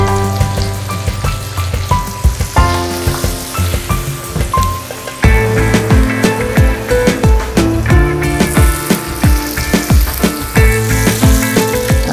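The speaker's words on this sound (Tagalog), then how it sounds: "Lagyan natin yung ating bawang." Garlic frying in melted butter with a little olive oil on a stovetop, giving a steady, fairly loud sizzle and crackle that runs throughout, with scattered pops and utensil taps.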